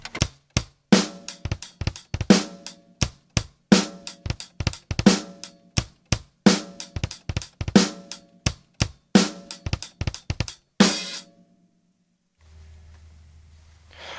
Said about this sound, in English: you get those doubles. I use the slide technique for those,